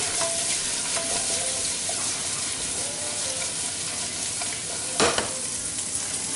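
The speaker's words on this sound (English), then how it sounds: "when you're always sauteing onions, you want to make sure that you want to cook them evenly" Onions sauté in a hot pan with a steady close sizzle and hiss, broken by a few stirring scrapes and one louder clatter near the end, with no voices.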